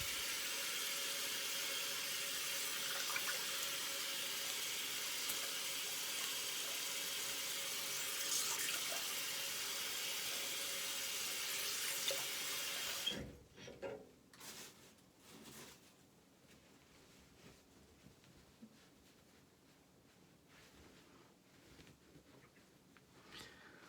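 A tap runs steadily for about thirteen seconds as a straight-razor shaver rinses off, a broad, even rush of water that then cuts off, leaving scattered faint drips and small handling sounds in a quiet room.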